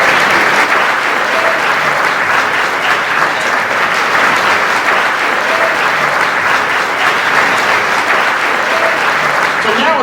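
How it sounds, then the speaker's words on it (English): Continuous loud applause from a large crowd at an annual Juneteenth gala, even and dense for the whole stretch without pause. "One more round of applause for the board,"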